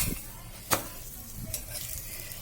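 Cauliflower paratha cooks in oil on a pan, a soft, steady sizzle with a few faint scraping clicks of a spatula, close and without talk.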